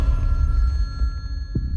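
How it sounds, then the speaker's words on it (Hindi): A telephone rings in a tense office scene, a steady electronic bell tone running throughout at moderate level with no talk over it. "Attend the phone sir. सुना नहीं आपने?"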